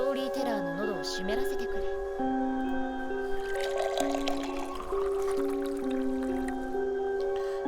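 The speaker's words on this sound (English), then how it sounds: "pours Yageki-kun a cup of coffee" Video game sound effect of coffee being poured into a cup, a light liquid trickle and drip laid over steady background music throughout.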